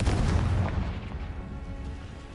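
A Confringo blasting curse goes off in a Harry Potter video game, a loud boom that starts heavy and low, then fades into a rumbling, crackling tail over about two seconds with no voices.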